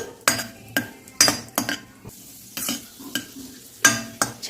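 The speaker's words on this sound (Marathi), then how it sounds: "याला पण आपण फ्राय करून घेऊ ते पटकन फुलले जातात तुपामध्ये" Raisins frying in ghee, stirred with a metal spoon in a pan, giving a soft sizzle under repeated clinks and scrapes, close and moderately loud with no talk.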